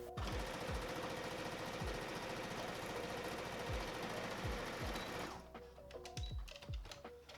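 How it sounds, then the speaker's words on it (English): A sewing machine runs steadily while topstitching a sundress, giving a fast continuous mechanical whir for about five seconds. It then stops and leaves a few quieter clicks and thumps, heard close with no talking. "I'm just going to very carefully sew it, aiming for our seam allowance that we left up here"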